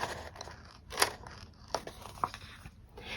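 Scissors cutting a paper sticker down to size, a few sharp, close snips and crisp crinkles spaced irregularly over a quiet background.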